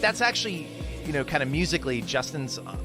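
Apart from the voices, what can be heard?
No everyday noise stands out behind the speech.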